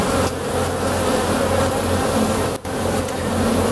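Honeybees buzz thickly around their hive with larger drones mixed in, a loud close continuous whine with a low droning layer and one brief dip, with no talk.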